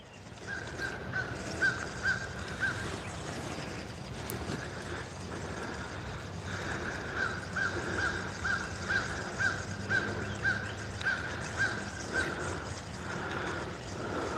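Crows caw outdoors near a fishing spot, first a short burst of calls and then a longer run of rhythmic, evenly spaced caws, moderately distant over steady outdoor background noise.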